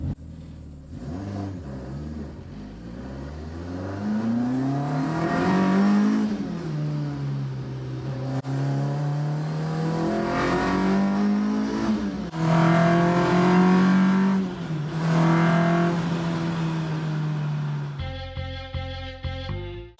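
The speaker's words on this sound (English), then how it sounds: "Big bore straight through exhaust on it." A Zetec-powered Mk2 Ford Escort with a big-bore straight-through exhaust and light flywheel revs hard in repeated rising and falling sweeps, loud and close, before a brief abrupt mechanical clatter at the end.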